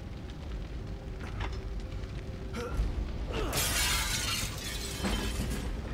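A glass door shatters in a survival horror video game, a sharp burst of breaking glass that crashes loudly and then scatters into tinkling fragments against a low rumbling backdrop.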